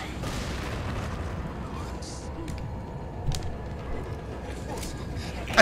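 Sharp cracks and pops go off in a scattered burst over a steady noisy background, like firecrackers in a game, with a louder bang at the end.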